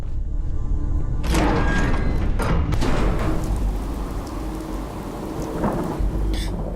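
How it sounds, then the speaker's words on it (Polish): Thunderstorm in the video game Fallout 4: steady heavy rain with loud rolling thunder cracks that swell and fade across the clip, with no talking. "No i została nas burza niestety."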